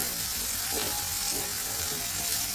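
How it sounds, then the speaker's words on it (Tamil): Onions deep frying in oil in a pan for Tamil Nadu style crab gravy give a steady, dense sizzle that holds at an even level, close and unbroken, with no voices over it. "ஆனியன் நல்லா டீப் ஃப்ரை பண்ணிடுங்க."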